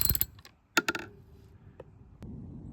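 Sparse metallic clicks and ratcheting taps of a tool loosening the clevis bolts on an Ibis mountain bike's rear suspension linkage, close and fairly quiet, with a few sharp ticks and short pauses.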